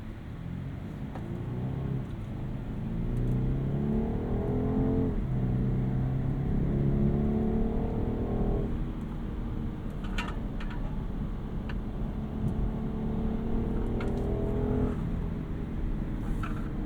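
A 2025 BMW 230i M Sport accelerating with its transmission in the sportiest setting, the engine note rising steadily through gear changes, loud and continuous from inside the car.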